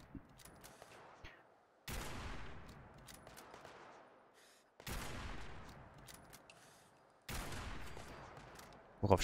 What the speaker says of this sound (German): Worauf schießen sie denn?